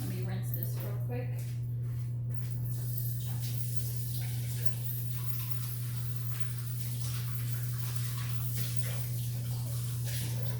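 Tap water rushes steadily while something is rinsed under it, a close broadband hiss over a low constant hum, with brief clatter near the start.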